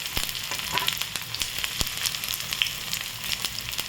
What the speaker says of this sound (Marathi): तर इथे तेल गरम झालेले आहे, लसूण घालायचा